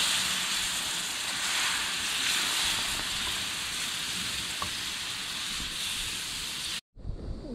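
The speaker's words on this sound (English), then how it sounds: "Gotta keep stirring it until it thickens up to be a gravy" Milk gravy in a pan gives a steady, close hiss and sizzle with soft scraping as it is stirred, continuous for several seconds before cutting off abruptly.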